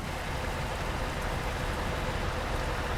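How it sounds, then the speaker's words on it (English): Steady rain falling in a trucking video game set in Livorno, a dense, even hiss of raindrops on surfaces that stays constant throughout. "Livorno's very rainy, unfortunately"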